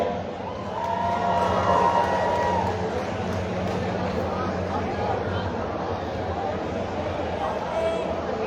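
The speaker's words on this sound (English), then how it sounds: "I know there's a big crowd here for David Henderson. Let me hear you" Crowd at Redwood Acres Raceway cheering for a driver before the Rhododendron 100 race, a broad sustained roar of voices and shouts swelling early and holding steady, with some speech mixed in.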